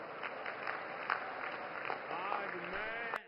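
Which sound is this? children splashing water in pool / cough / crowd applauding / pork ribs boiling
crowd applauding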